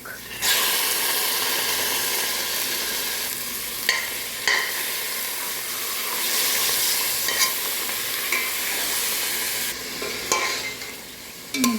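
Chicken breast stir-fries in a pan for lomi, a loud, sustained sizzle and hiss close by, broken by repeated scrapes and knocks of a spatula stirring.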